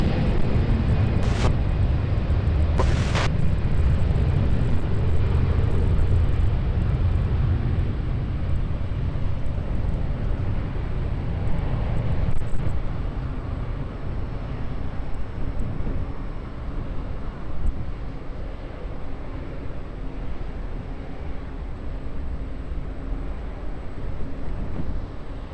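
Jet airliner taking off from runway 20 at Lisbon Airport, a loud sustained engine roar with deep rumble that holds steady for about twenty-five seconds and slowly eases, with no talk over it.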